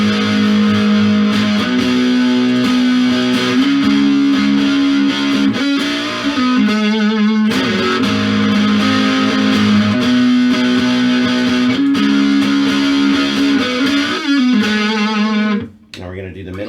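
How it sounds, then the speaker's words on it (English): An IVY ITF 400 solid body electric guitar with P90 pickups is played through distortion on the neck pickup, a loud, sustained, buzzing run of chords and notes that ends in a brief cutoff. "We're going to have some distortion on now, and we're doing the neck."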